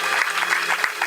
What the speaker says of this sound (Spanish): Le da palmas a Dios en esta tarde.